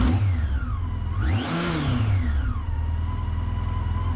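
A Yamaha FJR 1300 motorcycle engine, idle freshly adjusted, revs up once and falls back to a steady close idle, its pitch rising and sinking smoothly with no stumbling, loud and alone throughout.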